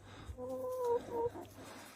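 A hen brought by plane from Korea gives a brief, soft clucking call, a couple of short nasal notes close by in a quiet setting.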